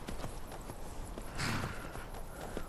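Horse hooves in Skyrim clop in a quick, even rhythm on rough ground, near and fairly quiet, with a brief louder splash or scrape midway.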